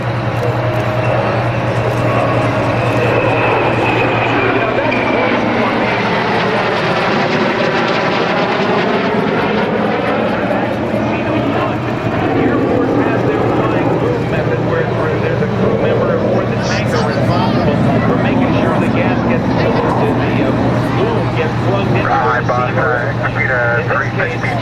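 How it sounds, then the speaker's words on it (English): A fleet flyby of Naval Air Station Oceana military aircraft at an air show: loud, sustained jet roar sweeping past with rising and falling pitch, swelling and fading as the formation passes overhead, a public-address voice talking over it. "Ladies and gentlemen, from your left, the aircraft of NAS Oceana and the fleet flyby."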